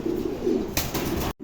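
Pigeons kept for sale coo softly in low, rolling calls close by, joined by a brief rustle of movement before the sound cuts off near the end.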